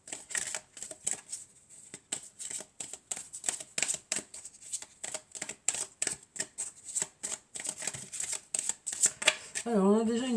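Tarot cards shuffled by hand, a quick run of crisp close riffling slaps in an uneven rhythm, with a brief voice at the very end.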